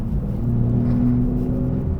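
A 2025 Aston Martin Vanquish V12 exhaust burbles in Sport Plus mode, a steady, loud low rumble with a sustained engine drone throughout, heard close and alone without speech.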